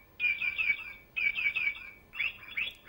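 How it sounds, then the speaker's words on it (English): A little bird chirps in three bright, close bursts of rapid tweets, each lasting under a second with short pauses between, clear against a quiet background. "This young boy is fascinated to the chirping sound of the little bird."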